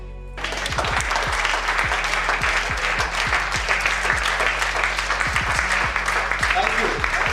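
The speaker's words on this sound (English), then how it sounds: "Doesn't the energy need a clap?" Audience applause at a World Tai Chi and Qigong Day gathering in Mumbai, steady dense clapping from a crowd lasting several seconds, with a voice speaking over it.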